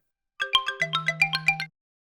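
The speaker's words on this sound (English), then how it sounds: "Hold on. That's my phone ringing." A phone rings with a bright electronic melody, a rapid run of about ten chiming tones over a steady low hum, loud and close, alone for just over a second.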